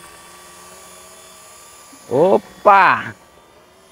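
A V912 remote control helicopter hovers with a thin, steady motor whine and hum, while a man calls out two short exclamations over it.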